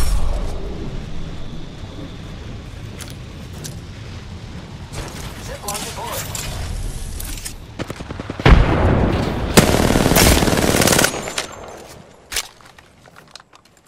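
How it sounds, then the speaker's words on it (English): Sustained automatic gunfire from Apex Legends duos match, dense bursts of rapid shots with heavy impacts swelling louder toward the end before tapering off, mixed with game effects and voice chatter. "Open fire on the enemy"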